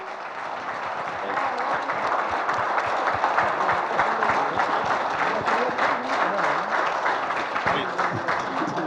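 Standing applause from an event audience honoring a Padma Shri recipient at the Amaravathiki Aahwanam pre-release function, a dense, steady wash of many hands clapping that swells after the first second and holds throughout.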